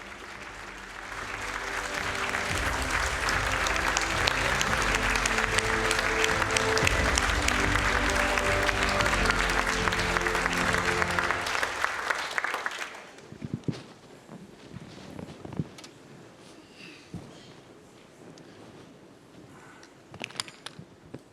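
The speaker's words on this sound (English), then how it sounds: "Your round of applause," An audience at a panel on the impact of war on mental health applauds loudly for about twelve seconds, then the clapping stops abruptly and leaves a quieter room with scattered shuffling and small noises.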